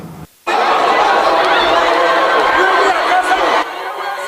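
Large crowd of women from Adamawa, Bauchi, Gombe, Taraba and Yobe states in northeastern Nigeria chattering at a campaign rally in a multipurpose indoor sports hall, a dense, loud, continuous wash of voices with scattered laughter after a brief pause.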